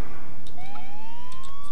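Police car siren in the video game GTA IV, a loud rising electronic wail sweeping upward over a steady rumbling background with no talk.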